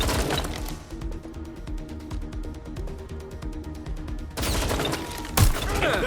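Rapid bursts of automatic gunfire in Watch Dogs: Legion, a steady fusillade of sharp shots with a louder crack and crash near the end, mostly alone with no voice.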